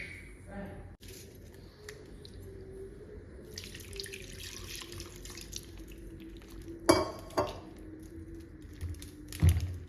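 Water runs steadily from a tap into a sink as freshly churned butter is rinsed, with faint clinks of dishes and a few louder clatters; a voice speaks softly underneath.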